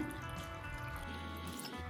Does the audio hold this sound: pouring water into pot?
yes